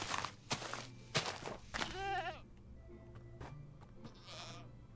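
Goats in the game Minecraft give a wavering, nasal bleat, mixed with soft footsteps and rustling, close by and moderately loud.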